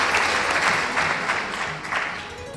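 An audience applauds the CERAAS team at a twentieth-anniversary event, a dense, steady wash of clapping from many hands that fades slightly toward the end.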